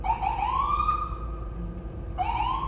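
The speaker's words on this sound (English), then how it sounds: "Hold on, this ambulance out here tripping." An emergency vehicle siren wails outside, rising and falling in a steady loud sweep and restarting near the end, close by and heard on its own with no talk.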